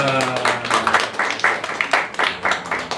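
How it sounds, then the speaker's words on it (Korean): A church congregation claps together during a Sunday morning service, a dense, steady patter of many hands that continues for several seconds, with a voice speaking briefly at the start. "함께하신 주님께 감사와 영광의 박수 올려드리겠습니다"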